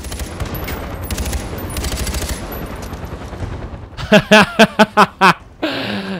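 Dense rapid video game gunfire during an airport attack in Far Cry 4 rattles continuously, then gives way to a handful of separate sharp bursts, followed by a brief laugh.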